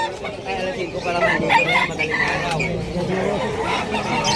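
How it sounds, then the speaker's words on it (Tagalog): Chickens at a pet market in Bulacan, Philippines cluck and squawk continuously nearby, with occasional higher calls over a steady background murmur. "Yung mga manok oh."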